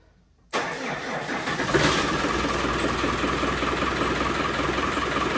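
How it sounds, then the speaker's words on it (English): Rover engine in a Land Rover Discovery starting up. A quick crank catches, and the engine settles into a loud, steady idle close by. "So let's have a go and see if it'll fire up."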